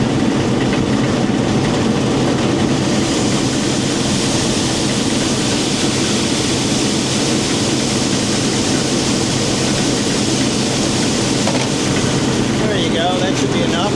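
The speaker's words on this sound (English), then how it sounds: "Now I'm going to turn on my auger and we're going to let a little bit of corn out" A combine's unloading auger runs while letting out corn, making a steady loud mechanical drone with a low engine rumble throughout, close and continuous with no pauses.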